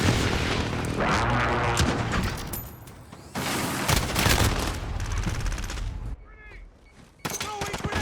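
Explosions and heavy gunfire from a Modern Warfare multiplayer match under an incoming precision airstrike, with loud booming blasts and rattling fire in waves, a brief lull, then another burst; a voice speaks between them.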